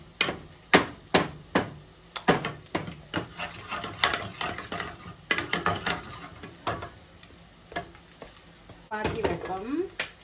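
A spoon knocks and scrapes repeatedly against a cooking pot while boiled moong dal is stirred for a three-dal sambar, giving sharp, rhythmic clanks with a faint sizzle underneath.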